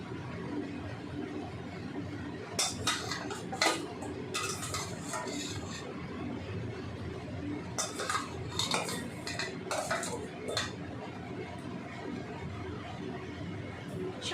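Potato pieces go into a pot of cooking mutton, a metal spoon clinking and scraping against the pot in scattered bursts between quieter stretches, close and fairly soft.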